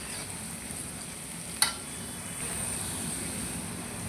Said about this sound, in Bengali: এখন মশলাগুলো দিয়ে দিব।